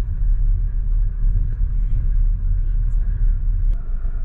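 Pizza truck engine rumbling close by, a steady loud low idle drone that holds for several seconds, with faint voices in the background.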